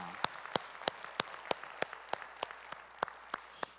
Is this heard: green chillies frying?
no